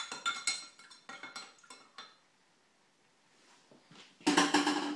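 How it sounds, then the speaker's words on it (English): An oxalic acid solution stirred in a container for treating beehives gives quick clinking, scraping strokes of a utensil against the sides, then a quiet pause and a louder final run of clinks. "So I'll stir that a little bit, make sure it's uniform."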